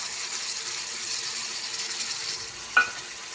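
Onion and tomato frying in a pan with salt, a soft continuous sizzle at moderate level with one brief sharp metallic clink near the end.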